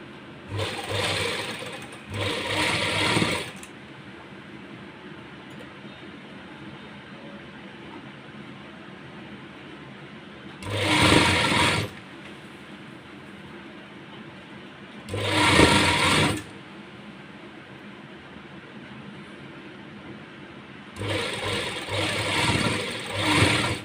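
A sewing machine stitches palazzo pants in several loud bursts, from short runs to a few seconds long, separated by stretches of quiet room hum.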